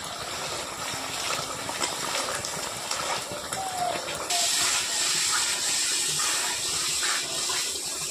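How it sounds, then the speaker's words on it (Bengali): Spice paste sizzles and hisses steadily in a hot pan, cooking for a Bengali-style doi katla fish curry, with the sizzle swelling louder partway through. "আবার একবার ভালো করে মশলাটা ভেজে নেবো।"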